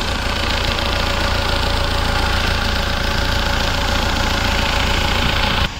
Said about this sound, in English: So you can just check the engine sound.